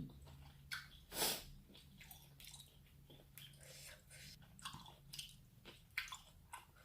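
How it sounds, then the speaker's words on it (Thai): Close, wet crunching and chewing as someone bites into a spicy squid papaya salad, with an irregular run of soft squishy bites and one louder crunch, no talking. "กัดอีกคำนะคะ"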